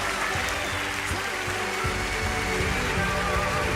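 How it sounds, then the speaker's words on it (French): A France's Got Talent audience keeps up a long, unbroken ovation: thick, even applause from a large crowd that stays loud and steady throughout, with no talk over it. "il n'y a jamais eu un applaudissement aussi long"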